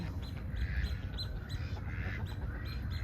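Ducks at El Cedazo Park in Mexico give repeated squawking calls in a steady run over constant outdoor background noise, moderately close and fairly faint.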